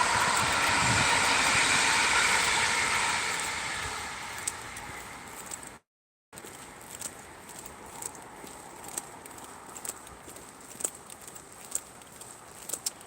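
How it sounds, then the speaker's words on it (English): A train passing in the countryside gives a loud broad rushing roar that swells and then fades, followed after a brief cut by quieter rattling and clicking with a few sharp knocks. "A train!"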